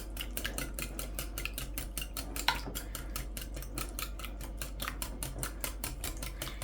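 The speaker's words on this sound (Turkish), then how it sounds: "Yoğurtla yumurtamızı güzelce çırpıyorum." Yogurt and eggs whisked together in a bowl for a cheese-filled börek, making a fast, steady run of light clinking scrapes against the bowl with no talking.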